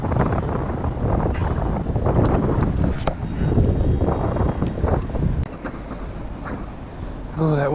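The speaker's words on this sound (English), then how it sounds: "Oh, that wind's strong." Strong wind roars and buffets the microphone continuously, with gusty rumbling that eases slightly toward the end.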